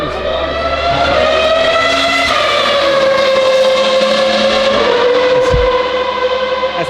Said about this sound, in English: As the two-seat F1 car goes past.